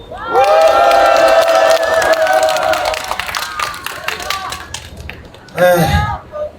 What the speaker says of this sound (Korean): 다시 한번 손장훈 동지께 큰 박수 부탁드리겠습니다